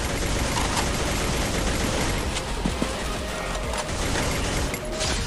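Gunfire against a samurai boss in Free Fire, a dense continuous barrage of shots blended with mechanical clatter and noisy bursts, sustained and fairly loud throughout.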